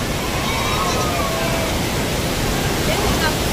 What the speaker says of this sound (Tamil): இதான் அருவி.